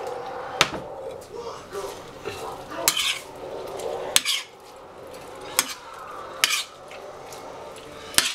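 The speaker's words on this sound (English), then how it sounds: "So as I saute my scallops and my shrimp" Scallops and shrimp sauteing in a pan for ginger garlic seafood, heard as repeated sharp clinks of a utensil against the pan over a soft, steady cooking hiss, with stirring scrapes between the knocks.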